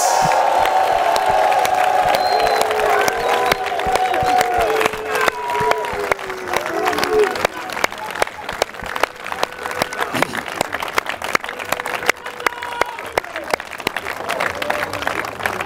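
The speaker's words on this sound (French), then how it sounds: "On acclame le Seigneur Jésus-Christ." A large crowd at a religious gathering cheers and applauds in acclaim of Jesus Christ, with dense sustained clapping, whoops and voices filling the space loudly throughout.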